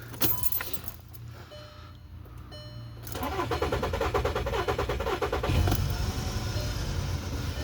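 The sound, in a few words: German car engine being started up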